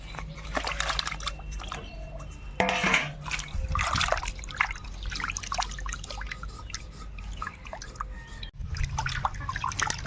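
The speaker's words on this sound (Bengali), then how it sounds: "মাছগুলোকে সুন্দরভাবে ধুয়ে নেব" A live snakehead fish being washed by hand in water in a village kitchen: irregular splashes, drips and trickles up close, with a brief dog bark and faint background noise.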